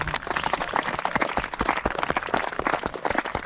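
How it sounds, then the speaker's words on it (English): A small outdoor group at Tintern Abbey claps after a historical European martial arts demonstration, distinct individual hand claps in an uneven rhythm, fairly close and loud. "Give him a round of applause."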